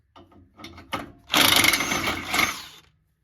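Impact gun loosening an exhaust nut on a 2015 Mazda CX-5, a few short mechanical clicks and bursts leading into a loud, sustained rattling hammer lasting over a second before it stops.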